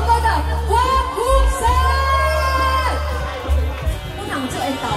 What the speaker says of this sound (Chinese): 给我们小东哥的欢呼